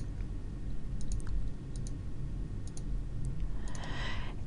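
Several sharp computer mouse clicks, scattered and moderately close, while drawing a heart swirl pantograph with the Control key held, over a steady background hum.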